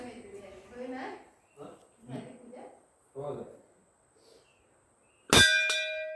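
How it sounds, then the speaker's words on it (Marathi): A metal temple bell at Dhutpapeshwar in Rajapur, Konkan, is struck once near the end, giving a loud close clang with a bright ringing tail. People talk before it. "बेल वाजवल्यानंतर पंधरा सेकंद त्याच्या खाली उभं राहायचं"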